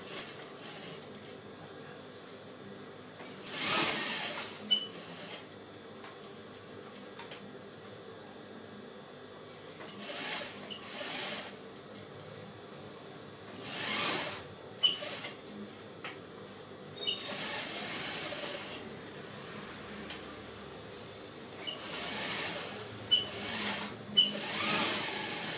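A sewing machine stitches a skirt, running in short intermittent bursts of whirring separated by quiet pauses, close and moderately loud.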